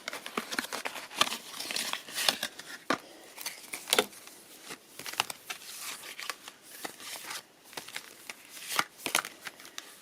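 A deck of book-themed prompt cards being shuffled by hand, with quick irregular riffles and soft papery slaps, close and fairly quiet, with no talking.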